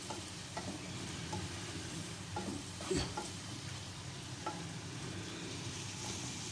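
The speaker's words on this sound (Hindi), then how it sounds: "अब मैं इन सबको मिक्स कर लूँगी अच्छी तरीके से।" Spoon stirring chaat masala, Ajinomoto and other spices together for a chicken boti macaroni dish, soft continuous scraping with a few light knocks against the bowl, quiet and without talk.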